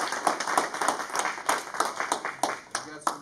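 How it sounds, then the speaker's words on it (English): Applause at a military farewell ceremony, a crowd clapping steadily and fairly close with sharp irregular hand claps sustained throughout. "All right, big round of applause."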